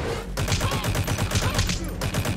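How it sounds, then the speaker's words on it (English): Rapid burst of rubber-bullet gunfire in Metal Gear Solid V, a steady rhythmic string of close, loud non-lethal shots that stops briefly and then resumes. "I'm shooting rubber bullets"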